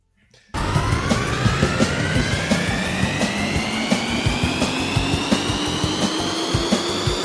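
Jet engine from the After Burner arcade game, kicking in suddenly and holding a loud, steady roar with a rising whine, punctuated by regular rhythmic pulses throughout.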